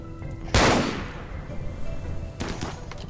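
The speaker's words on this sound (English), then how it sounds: "at least the turrets are shooting now" Turrets firing in RimWorld during a modded infestation fight: a sharp, loud shot that rings out and decays, followed by a second, softer report about two seconds later.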